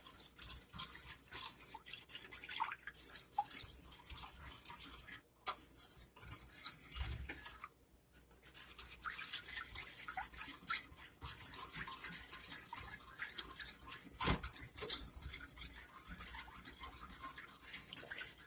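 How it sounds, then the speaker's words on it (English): A whisk scrapes rapidly around a pan of sugar mixture for cream puffs, a steady bright scratching rhythm with a couple of brief pauses, close-up and moderately quiet. "I'm going to turn this on medium heat, and I'm going to start whisking it good."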